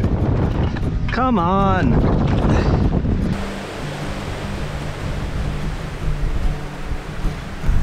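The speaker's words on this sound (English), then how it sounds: "Oh, that wind is strong." Strong, gusty wind on a river buffets the microphone as a loud, roaring rush over the whole clip, with someone speaking briefly near the start.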